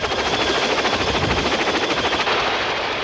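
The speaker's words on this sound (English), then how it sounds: "The US Marines also make extensive use of the Boeing Vertol CH-46 Sea Knight tactical transport helicopter." A Boeing Vertol CH-46 Sea Knight twin-engine tactical transport helicopter of the US Marines throbs with steady, loud rotor chop and a dense engine roar, continuous and close throughout.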